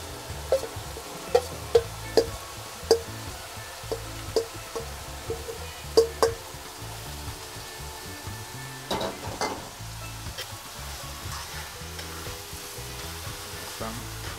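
Meat sizzling and frying in oil in a pot as smoked fish is prepared, with a steady hiss throughout and occasional sharp pops and stirring clatter, close and moderately loud with no talking.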